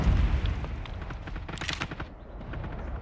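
Gunfire in a competitive video game grand final match, dense bursts of shots and booms layered over a loud busy mix, continuous and close.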